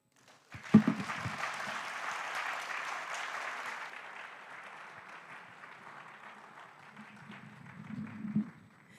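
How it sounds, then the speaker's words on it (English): Conference audience at a closing ceremony breaks into applause, a broad steady wash of many hands that starts abruptly, holds for several seconds, then thins and fades with a brief final swell. "another round of applause for Major Johnny"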